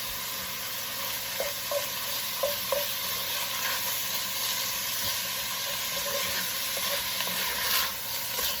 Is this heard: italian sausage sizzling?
yes